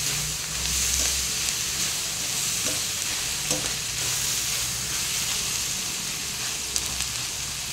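Onions frying in a pan make a steady, hissing sizzle with occasional stirring clicks and scrapes throughout, with no speech.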